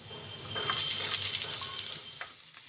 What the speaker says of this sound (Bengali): পেঁয়াজ আর রসুনটাকে হালকা একটু ভেজে নিয়ে